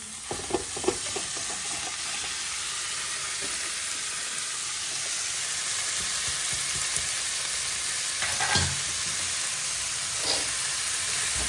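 Washed greens go into a pan of radish and ginger sabzi, setting off a steady broadband frying sizzle with a few louder bursts of crackle and stirring, close and continuous with no talk.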